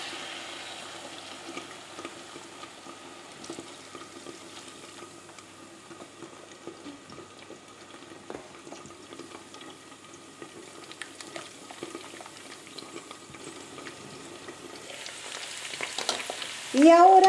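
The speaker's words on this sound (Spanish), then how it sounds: "Agregamos luego la cerveza" Beer goes into a pan of potatoes cooking on the stove, giving a soft, steady sizzle and bubbling crackle with faint stirring for over fifteen seconds, ending in a brief louder clatter.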